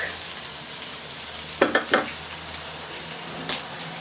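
Garlic fries in a pan with a steady broadband sizzle, broken by a couple of short clattering stirs midway and a faint later knock, no voices.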